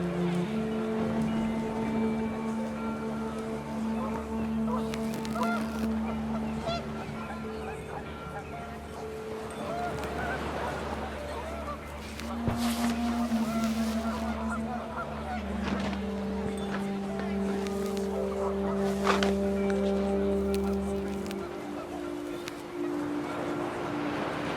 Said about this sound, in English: The wind picked up and panicked geese appeared